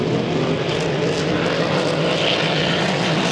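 A racing hydroplane boat at full throttle during qualifying at the Valleyfield Grand Prix, a loud continuous high-revving engine roar held steady and close throughout.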